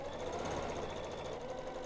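A Janome sewing machine runs steadily while stitching raglan seams. Its rapid mechanical hum and needle chatter are close and even, somewhat quiet, and no voices are heard.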